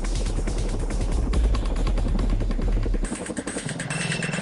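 A CH-47 Chinook heavy-lift military helicopter gives off a loud, steady throbbing rotor and engine roar that drops to a lighter, thinner whine near the end, with no speech.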